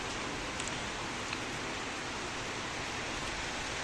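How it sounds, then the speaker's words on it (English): Steady rain pours down during the rainy season at a home in Africa, a continuous dense hiss with faint patters of drops, with no voices over it. "Rainy season."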